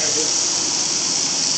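Burgers of ground meat mixed with garlic sizzle on a grill, a loud, continuous bright hiss that stays steady throughout.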